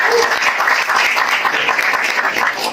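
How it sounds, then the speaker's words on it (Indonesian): Loud, close applause from a crowd at a community business gathering, a thick continuous patter of many hands with no break across the whole stretch. "Ini tepuk tangan"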